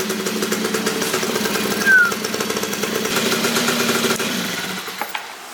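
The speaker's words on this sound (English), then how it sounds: "The EZ90 is finally running." A Honda Cub EZ90 motorbike engine idles steadily just after its first start in 13 years, a close, loud, even putter with a rapid knocking rhythm that holds throughout before dropping away at the end.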